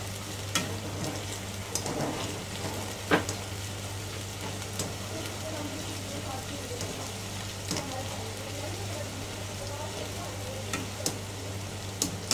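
Vegetables and spring onion being stir-fried for restaurant-style Chinese veg fried rice, with a steady low sizzle and occasional sharp scrapes and taps of the spatula against the pan, continuous and fairly close.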